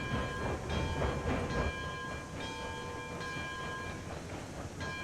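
Train rumble in the video game Railroads Online, a steady rolling noise with tonal hums and a brief louder stretch early on, heard alone without talk.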